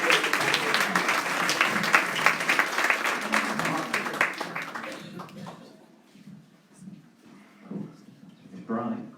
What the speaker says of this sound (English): A round of applause for Mark.